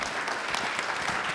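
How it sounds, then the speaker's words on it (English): An audience applauds a panel of speakers, a steady, even wash of clapping filling the whole short moment at moderate volume. "how about a round of applause for our panelists?"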